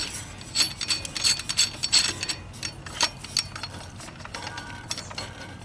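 Metal threads of a fitting being screwed into a thread adapter on a Jeep Wrangler YJ power steering pump, giving a string of small clicking, scraping turns at close range, with no talk.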